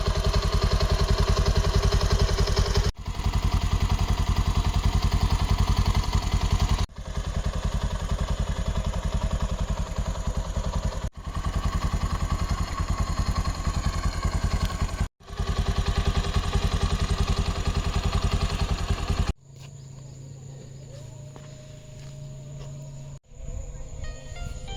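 A 2021 Bajaj Pulsar dual-disc UG7 motorcycle engine runs loud and close, a steady droning rumble that breaks off briefly every few seconds before resuming, then drops to a quieter idle near the end.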